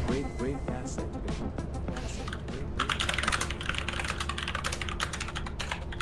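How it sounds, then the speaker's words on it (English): Close, rapid clacking on a loud computer keyboard during an online game session, the typing running as a dense, uneven stream under overlapping talk and game sounds and growing busier midway. "Why is your keyboard so damn loud?"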